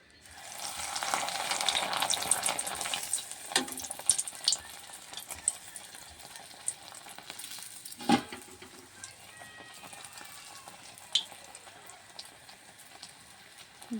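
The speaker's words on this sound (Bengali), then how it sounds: "এখন আমি এক এক করে ব্রেডগুলো ভেজে নিচ্ছি" Bread slices sizzle in hot refined oil, loud and crackly at first, then settling into a softer, steady frying with occasional scrapes and taps; no voices.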